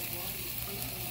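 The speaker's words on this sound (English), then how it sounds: "So I sauteed them up in the oil" Carrots and green beans sautéing in coconut oil, a steady close sizzle holding at an even level throughout a brief moment, with no clear voice over it.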